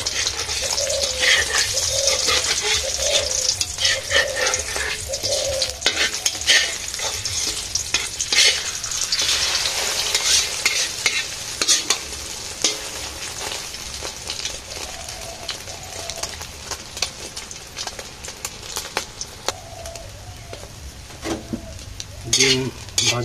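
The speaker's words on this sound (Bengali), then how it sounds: "ডিম অমলেট করতেছি" Beaten eggs fry into an omelette in a hot pan, with a loud, steady sizzle and crackle that continues throughout, broken by occasional stirring scrapes.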